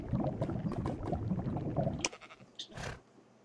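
Sheep bleating in Minecraft, a few short blocky bleats after a stretch of dense game noise, with a couple of distinct calls near the end.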